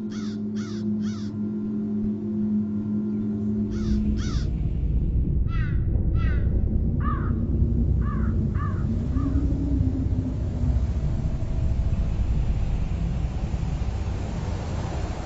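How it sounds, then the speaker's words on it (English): Crows cawing in a wood, harsh repeated calls in short bursts of two or three, fairly near and loud over a steady background hiss, with a low rumbling hum underneath. "The sounds of the crow represent a sophisticated"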